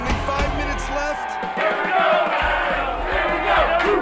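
Loud crowd cheering and shouting at a spicy wing eating challenge with minutes left, steady and energetic throughout with voices and whoops mixed in.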